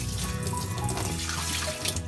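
Steady rushing of water running from a tap into a twin-tub washing machine during cleaning, a continuous splashing flow with no voices.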